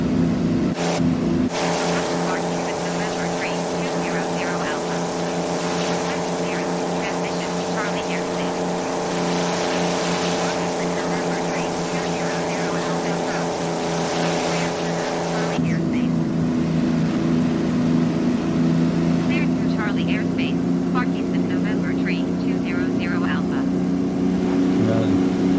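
A Spitfire's piston engine runs at full throttle in a flight simulator, a loud, sustained droning roar with a steady tone. Partway through the pitch shifts abruptly, and a voice talks over the engine in places.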